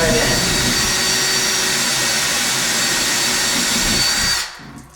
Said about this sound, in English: And then you want to drill right in.